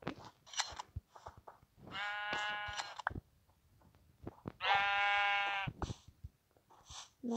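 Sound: sheep bleating in Minecraft video game

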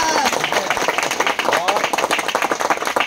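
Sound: audience clapping for Priti

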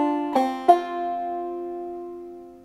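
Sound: clawhammer banjo playing a passage up the neck

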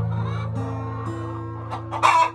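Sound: chickens clucking

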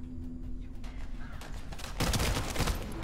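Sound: gunfire in the video game The First Descendant

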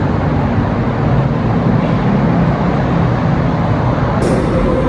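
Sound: electric monorail train ride

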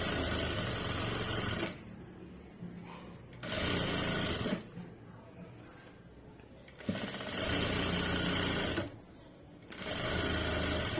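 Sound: sewing machine stitching thread piping

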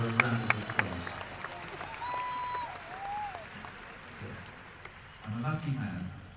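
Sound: concert audience applause

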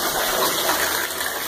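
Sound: water running

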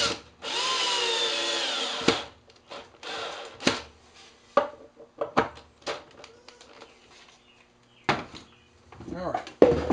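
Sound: power drill driving screws into wood

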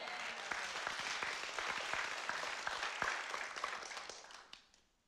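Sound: audience clapping

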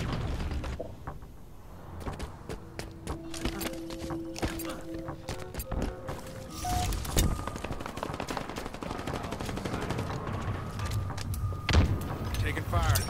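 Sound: gunfire in the video game Halo Infinite

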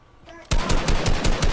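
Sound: shotgun gunfire in a video game

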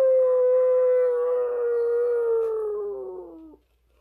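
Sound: people imitating a sad dog howl

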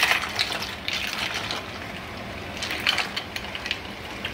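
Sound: cold water poured into an ice bath

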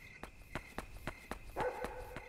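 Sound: dog barking in video game Yomawari: Night Alone

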